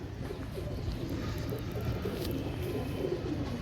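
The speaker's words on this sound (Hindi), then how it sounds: "देखें पर ये हैं दोस्तों सियालकोटी छत वाले कबूतर" Sialkoti rooftop pigeons coo softly and continuously, low throaty murmurs close by against a steady outdoor background hum.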